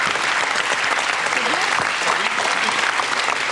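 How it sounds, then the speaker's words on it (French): Loud, dense audience applause for a guest arriving on stage at a French TV show, continuous and close, with crowd noise and faint voices mixed into the clapping. "On va applaudir Arnaud Lemort qui lui aussi"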